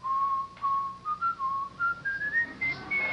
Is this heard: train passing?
no